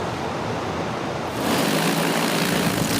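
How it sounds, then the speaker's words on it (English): Agricultural spraying drone taking off over a potato field in Cache County, Utah; a steady broadband rotor roar that suddenly surges louder and brighter partway through as it powers up, close and without talk. "A drone roars to life as it takes off over a potato field in Cache County."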